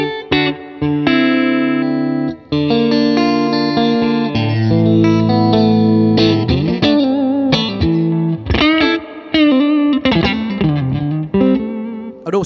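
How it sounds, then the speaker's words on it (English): Electric guitar played through a Fender American Special Mustang amp with reverb engaged, loud sustained chords and single notes ringing out with a lingering wash of reverb tail, no voice over the playing. "we can add to that, obviously, the reverb."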